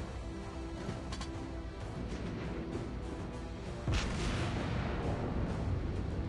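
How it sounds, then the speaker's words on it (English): Heavy battleship guns boom in a naval combat video game, a dense rumbling barrage with a sharp, louder blast near the middle that keeps the din high afterward, no talking. "Good shots on the battleship."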